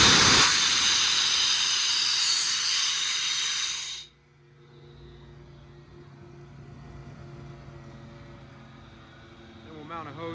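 Loud, broad hiss of compressed air venting from the drain of an air tank on a 2022 Ford F-550 service truck fitted with a hydraulic compressor, blasting steadily for about four seconds before cutting off abruptly, leaving a low background hum.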